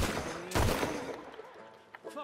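A sharp gunshot burst in Red Dead Redemption 2, a loud crack followed by decaying echoes and a few softer pops, with a voice speaking briefly around it.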